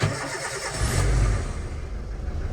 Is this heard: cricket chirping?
no